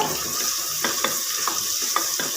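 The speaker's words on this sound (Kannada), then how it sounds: "ಚೆನ್ನಾಗಿ ಫ್ರೈ ಮಾಡ್ಕೊಳ್ಳಿ" Spices with turmeric sizzle in a hot pan under a constant bright hiss, while a utensil stirs and scrapes at an uneven pace, close up and without speech.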